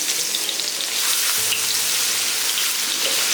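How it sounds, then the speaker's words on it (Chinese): Scallion, ginger and garlic hit hot pork-belly fat in a wok, giving a steady, loud frying sizzle with crackly oil spatter throughout, no voices. "锅里的油留着，把葱姜蒜放下去，"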